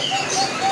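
White canaries in cages at a bird shop kiosk, giving faint, continuous high chirps and twitters, close by and steady, with no talk over them.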